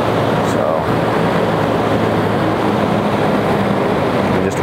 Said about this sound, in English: you don't hear any rattling on the fan, you actually just hear the wind passing through